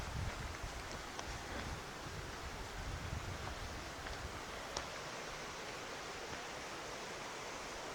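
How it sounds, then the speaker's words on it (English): Small waterfalls on the Little Indian Sioux River send up a steady, soft rush of falling water that stays even throughout, distant and fairly quiet, with no voices. "Some pretty neat little waterfalls over here."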